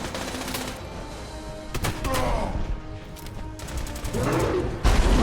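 Bursts of gunfire in the video game Fallout 76 come as sharp cracks and rapid volleys separated by brief gaps, with a heavy thump near the end and some player talk mixed in.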